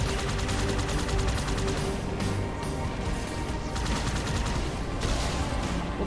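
Sustained enemy gunfire in the Halo 2 video game, a dense, continuous barrage of rapid shots and crashing impacts that stays loud and unbroken throughout.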